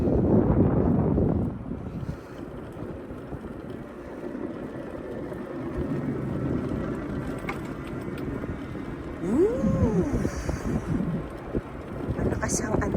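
Strong wind blows outdoors at dusk in a steady heavy rumble that buffets the microphone, with surges at the start and near the end and a faint tonal whine partway through.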